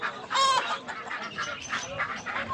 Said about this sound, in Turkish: Köy horozu Plymouth.